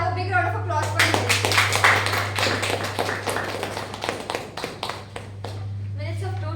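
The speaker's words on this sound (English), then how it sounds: "Let's have a big round of applause for him." Audience at a speakers' club meeting applauding for several seconds, dense claps that thin out toward the end, over a steady low electrical hum.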